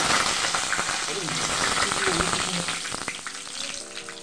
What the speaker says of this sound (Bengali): এবার আমি একটা তেজপাতা আর একটা শুকনো লঙ্কা দিলাম।